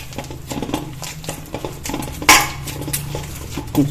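Atta dough being mixed with garlic butter and pizza herbs for Domino's-style garlic bread, giving a run of small clattering, tapping kitchen knocks against a bowl, close and moderately loud, with one sharper clack midway.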